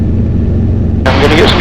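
A light aircraft's engine drones loudly and steadily while accelerating in a climb, heard from inside the cockpit, with a brighter rushing hiss of wind and engine noise joining the low rumble partway through.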